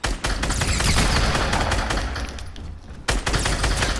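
Dense, continuous automatic gunfire in the Fortnite video game, loud and close, rattling almost without pause for four seconds with a brief dip near the end before firing resumes.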